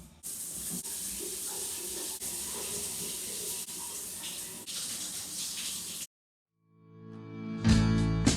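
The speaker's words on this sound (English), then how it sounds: "that was my final cold shower for this video" Cold shower water runs in a steady hiss for several seconds, then cuts off abruptly into silence before a brief burst of other sound.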